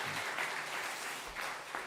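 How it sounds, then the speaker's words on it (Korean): Faint, distant audience applause at a church Bible seminar, with a soft, steady patter of clapping lasting a couple of seconds. "그냥 박수 한번 보내주세요."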